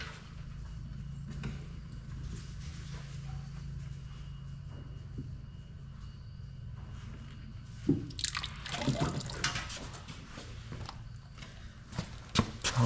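Liquid drips and splashes while junk is flushed out of a Farmall B tractor, a steady low wash giving way to louder spattering bursts near the end.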